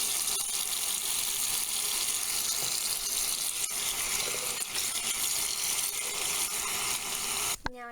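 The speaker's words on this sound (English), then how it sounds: "I'm just going to be adding some more water to the sink" Tap water runs steadily into a sink filled with soapy water for soaking tights, a continuous hissing gush with a brief squeak as the flow is cut at the end.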